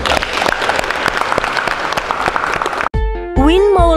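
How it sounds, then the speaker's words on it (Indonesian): An audience at a Ramadan talk bursts into steady, dense applause for about three seconds, loud and close, before it cuts off and music begins. "Tepuk tangan untuk mereka."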